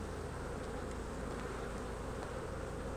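A steady, dense buzz of many honeybees fills the air close by during the inspection of a smoked hive, droning evenly throughout without any voices.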